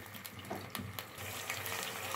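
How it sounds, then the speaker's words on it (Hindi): Ginger garlic paste frying and being stirred in a pan while a baby prawn curry is made; a steady, low sizzle runs throughout with a few soft stirring scrapes, fairly quiet and alone without talk. "इस तरीके से इसको चलाते जाएंगे ताकि ये मिक्स होता जाए और साथ ही साथ ये भुनता भी जाए"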